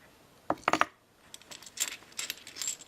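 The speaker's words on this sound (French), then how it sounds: "Ah, des pièces de monnaie," Coins from a souvenir box, including a Monaco coin and Monnaie de Paris pieces, clinking as they are handled, with a quick cluster of metallic clicks followed by softer scattered jingling.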